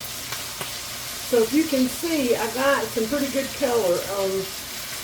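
Chicken pieces fry in a cast iron pan with a constant close sizzle and crackle, while someone talks over it for most of the stretch.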